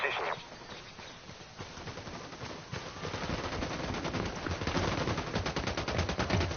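Rapid automatic gunfire in a video game firefight, steady close bursts that grow denser and louder after a quieter start, with voices talking over the shooting.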